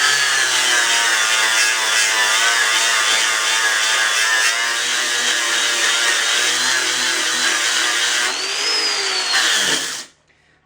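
A 4.5 inch Harbor Freight angle grinder strips mill scale off steel with a loud, steady abrasive whine that runs for about ten seconds, rises in pitch near the end, then spins down and stops.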